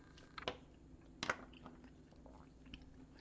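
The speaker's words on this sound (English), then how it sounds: "I've got a chew in my mouth" Someone chews a chewy sweet close to the microphone, giving two or three soft moist crunching bites in an otherwise quiet room.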